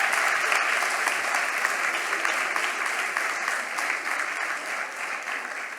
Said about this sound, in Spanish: Carlos, un aplauso para Carlos.